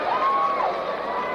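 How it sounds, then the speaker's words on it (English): Crowd at a 1975 IWA professional wrestling show cheering and applauding for Mil Mascaras, a steady dense roar of many voices with a shrill whistle-like tone rising early, loud and continuous throughout. "A big round of applause for Mil Mascaras."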